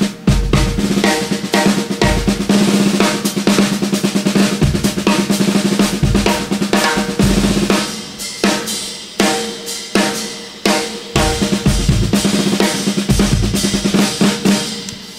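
A DW stainless steel 14x6.5 snare drum at medium tuning played in a march-like pattern, dense crisp rolls and accented hits ringing loud and close with wiry buzz, no talking.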